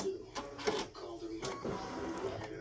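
Embroidery machine stitching a fall wreath design, with a close, uneven patter of needle strikes and brief motor whirs rising and falling in quick bursts.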